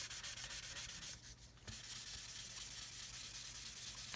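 A sanding sponge rubs over Mr. Surfacer primer on a 1/72 Airfix Vulcan model kit, soft rhythmic scratchy strokes close up and quiet, briefly pausing near the middle before resuming steadily.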